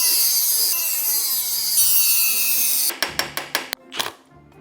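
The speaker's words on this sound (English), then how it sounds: "Let's try and Dremel a groove into this." A Dremel rotary tool whines at high pitch as it cuts a groove into a screw on a 23-year-old engine, steady for several seconds before breaking into a series of short, sharp grinding bursts.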